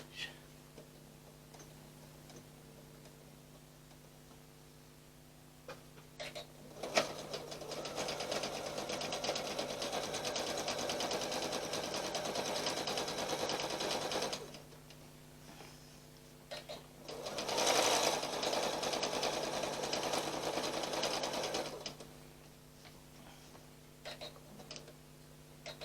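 A sewing machine runs in two sustained bursts of top stitching, each several seconds long, loud and close, with quieter pauses and faint ticks between.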